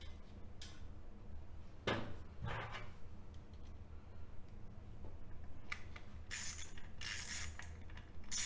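Hand ratchet tightening bolts on the primary cover of a 2001 Harley-Davidson 1200 Sportster in a garage: faint, sparse metallic clicks and clunks over a low background hum, with brief bursts of quick ratcheting near the end.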